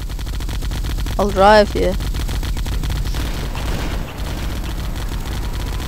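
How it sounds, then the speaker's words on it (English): Continuous rapid gunfire rattles across a Halo capture-the-flag match on Blood Gulch, a steady stream of shots throughout while a player briefly speaks over it. "Stop shooting me, mate."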